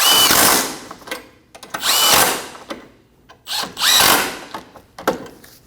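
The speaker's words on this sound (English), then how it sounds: "Snug down the 3 nuts." A power tool snugging down the three ball joint nuts on a Volkswagen Passat front axle, in loud close bursts of whirring and ratcheting with short pauses between them.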